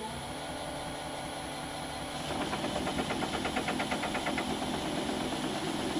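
A motor on a scratch-built horizontal model steam engine starts up over a faint background hum, then runs as a steady, close, rhythmic mechanical chugging with fast, even knocks.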